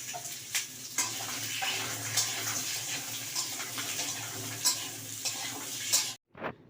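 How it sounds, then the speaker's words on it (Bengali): Two kinds of potatoes frying together in oil for a Bengali shukto, a steady close sizzle with occasional stirring clicks of a spatula, ending in a brief drop to near silence. "দুটো আলুকেই আমি একসাথেই ভেজে নেবো"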